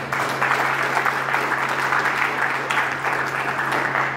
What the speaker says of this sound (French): Est-ce qu'on peut applaudir pour le gouvernement?